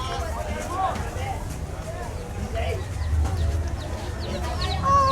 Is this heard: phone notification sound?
no